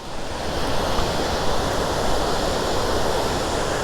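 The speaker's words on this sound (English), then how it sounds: "you can probably hear the water rushing over this dam" Water rushes over a dam on Autauga Creek in Prattville, Alabama, a steady, loud broadband roar that holds without a break throughout, with no voices over it.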